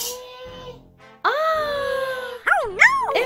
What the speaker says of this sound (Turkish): Bu ağlama sesi ne ya?